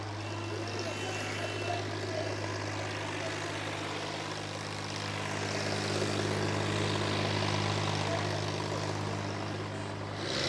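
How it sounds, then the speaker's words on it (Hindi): Massey Ferguson 8055 tractor pulling loaded trolleys forward at good speed, a steady loud engine drone with low harmonic hum continuing throughout, close and unbroken. "ट्रैक्टर जो है काफी अच्छी स्पीड के अंदर आगे की तरफ बढ़ता हुआ आप चेक कर सकते हैं।"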